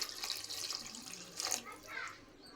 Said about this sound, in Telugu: అలానే కూరకు సరిపడా వాటర్ కూడా వేసుకుందాం